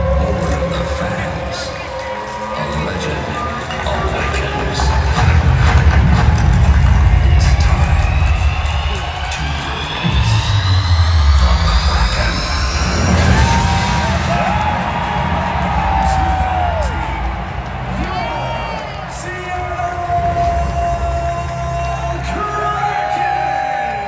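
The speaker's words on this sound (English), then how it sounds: "Really cool to see the Kraken fans cheering their teams so much." A crowd of Seattle Kraken hockey fans cheering and yelling in an arena, a loud roar that swells and holds, with whoops and shouts rising over the din and a voice speaking close by.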